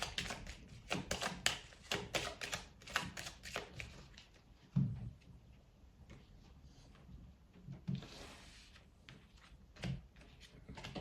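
Tarot cards being shuffled and handled for a weekly horoscope reading, a steady run of soft papery riffles and light taps close by, with no one speaking.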